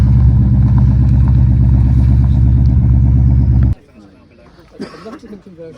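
Porsche fitted with a Corvette 5.7 litre V8 idles loud and close with a deep, steady throb at a classic car meet, then cuts out abruptly partway through, leaving quieter outdoor background sounds.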